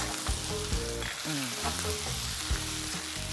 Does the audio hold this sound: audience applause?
no